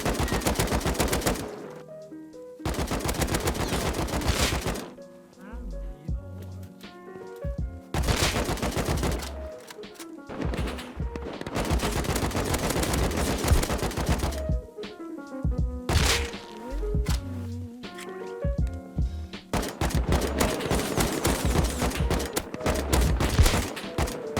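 AK assault rifle fire in the video game Rust rings out in loud, repeated automatic bursts separated by short pauses, close and sharp over a low background hum.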